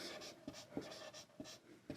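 A pen scratches across paper while working a maths problem, soft quick strokes with small taps every half second or so, faint and close, with no voice.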